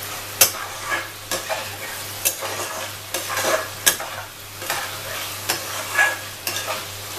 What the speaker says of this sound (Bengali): মশলাটা একটু কষাতে হবে, যখন দেখবে তেল ছেড়ে দিচ্ছে মানে মশলাটা কষানো হয়ে গেছে।